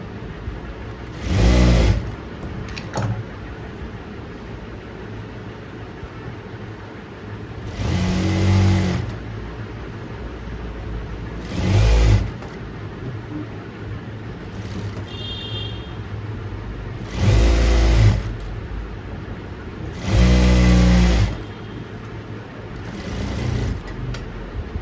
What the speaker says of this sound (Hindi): आगे से और पीछे से ऐसे खींच के और मशीन के नीचे रखो और ये वाली सिलाई लगाओ